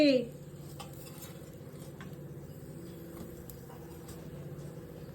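Eggplant slices are flipped in a pan cooked without oil: a clear metallic clink opens, then soft scraping ticks and a light crackle continue quietly and evenly.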